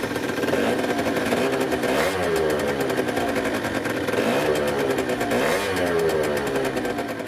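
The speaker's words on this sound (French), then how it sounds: "La sonorité du poids résonateur, assez marquée à l'accélération, n'est pas trop insupportable au ralenti" A Peugeot Speedfight 4 scooter revs up in repeated rising pulls, its small engine buzzing nasally with a pronounced resonator tone, steady and close throughout.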